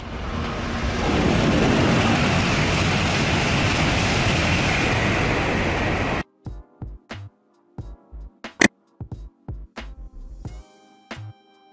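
A high-speed train passes as a broad, loud rushing roar that swells and holds for about six seconds, then gives way abruptly to a sparse run of sharp clicks and knocks.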